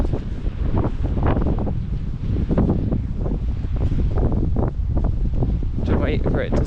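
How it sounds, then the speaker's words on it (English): Strong gusting wind on a coastal walk between Bude and Crackington Haven buffets the microphone in heavy, uneven bursts, loud and close, with a few faint higher sounds near the end. "To wait for it to stop gusting."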